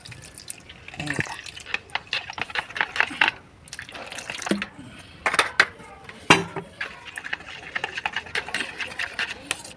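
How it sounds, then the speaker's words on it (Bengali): Water goes into a bowl of beaten egg batter in a home kitchen, with splashes, drips and sharp clinks against the bowl in irregular bursts, close and fairly loud. "এই গোলাটা, ডিম গোলাটার মধ্যেই জল ঢালবো।"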